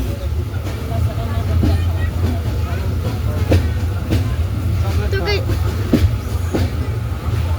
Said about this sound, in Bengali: গাইজ মনে হচ্ছে কি আন্তনগর তিতুমির এক্সপ্রেস ট্রেন